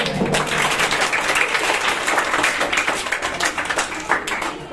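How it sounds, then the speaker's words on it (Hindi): Dense, steady crowd applause on a Hindi quiz show, many hands clapping at once with a continuous broadband wash that holds for nearly five seconds, with a faint voice or two mixed underneath. "इनके लिए जोरदार तालियां"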